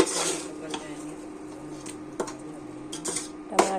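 A spoon scrapes and clinks against a cooking pot as tomatoes, chicken masala and salt are stirred, with a few sharp metallic taps over a quiet kitchen background.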